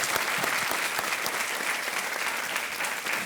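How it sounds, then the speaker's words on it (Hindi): Studio audience applause on the KBC (Kaun Banega Crorepati) game show set, a dense, steady burst of clapping from a full crowd that holds evenly throughout without pause. "तालियों के साथ इनका अभिनंदन हम करते हैं"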